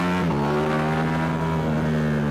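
Ducati Streetfighter V4S motorcycle engine accelerating hard on a road ride, a loud, steady high-pitched roar rising slightly in pitch over two seconds with no voices.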